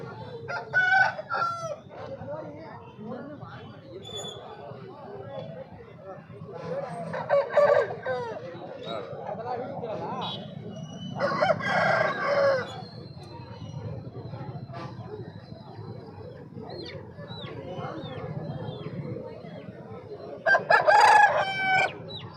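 Several chickens cluck and roosters, including fighting roosters, crow repeatedly at a busy Sunday poultry market, with people talking in the background throughout.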